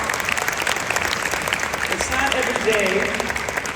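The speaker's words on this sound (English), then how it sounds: "Can we have another round of applause for them?" An audience at a school orchestra fall concert applauds in a full, continuous wash of clapping while a voice speaks over it.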